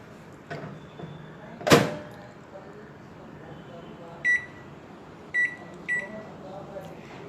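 A microwave oven heating peanuts hums quietly, with a sharp door clunk near the start and a few short electronic beeps spaced through the quiet running.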